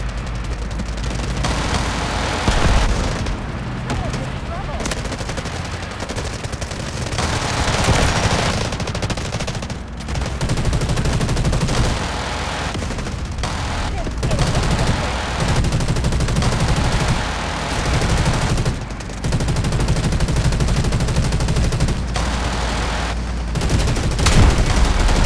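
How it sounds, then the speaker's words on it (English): An artillery barrage and gunfire in the video game Delta Force Mobile: loud, continuous rapid gunfire and booming explosions with almost no letup and only brief dips. "Artillery barrage incoming."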